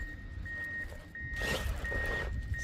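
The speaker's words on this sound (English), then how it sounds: "Sorry for the loud bulldozer noise" A bulldozer reverses with a steady series of high reversing beeps over a low engine rumble, the engine swelling louder midway, heard at moderate distance without speech.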